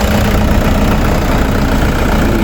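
The engine of a 2015 Toyota Innova idles after a new timing belt and tensioner were fitted. It gives a loud, close, even rumble with a steady low churn and no voices.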